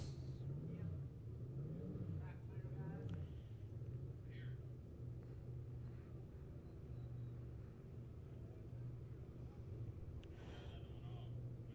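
Pure stock race cars idle at a dirt track before a heat race, giving a low, steady engine rumble that holds throughout under a voice.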